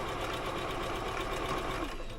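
A home sewing machine running steadily as it stitches a 3/8-inch seam along a serged edge at a slightly lengthened 3 mm stitch, a continuous close whirring hum with no pauses.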